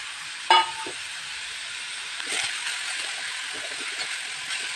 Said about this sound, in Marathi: रंग बदलेपर्यंत आपल्याला याला छान फ्राय करून घ्यायचं आहे।